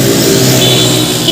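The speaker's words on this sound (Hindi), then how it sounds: "कितनी स्पीड में जान दे मोटरसाइकिल" A motor vehicle engine roars close and loud with a steady, revving drone, heard briefly and alone with no talking.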